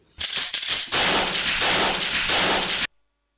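Loud staged gunfire sound effect at a school annual day play: a few sharp cracks, then a sustained burst of rapid shots lasting about two seconds that cuts off abruptly into silence.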